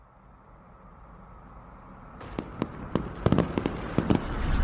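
Fireworks bursting outdoors, a quiet rumble building into a string of sharp, echoing pops and crackles that grow denser and louder toward the end, with no voices.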